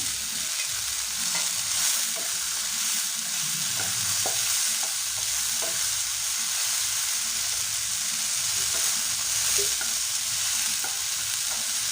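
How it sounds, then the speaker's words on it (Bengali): Green chillies sizzle and fry in a home-kitchen pan, with a steady bright hiss throughout and repeated scraping, clinking stirs of a utensil against the pan over about twelve seconds; no one speaks. "এবার আমি লঙ্কা কটা কাঁচা লঙ্কা কটা দিয়ে দিলাম"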